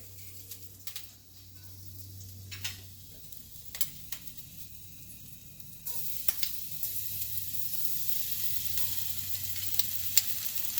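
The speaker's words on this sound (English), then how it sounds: "You should hear it sizzling." Steady sizzling and hissing of food frying in a pan, with occasional clinks and stirring sounds, louder in the second half.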